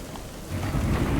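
A lightning urn bursts in Elden Ring, a sudden rumbling thunder crash that swells halfway through and rolls on loudly to the end, with a rain-like crackle over a low boom.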